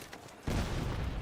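A grenade goes off in The Division 2, a sudden loud broadband blast after a quiet lead-in, then a sustained rumbling roar that does not fade within the clip.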